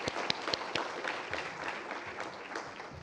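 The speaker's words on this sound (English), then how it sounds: "let's give all of them a round of applause" Audience applause for volunteers, mentors and staff at an app-building showcase, a steady wash of clapping with a few sharp individual claps standing out near the start, moderately loud and without talk.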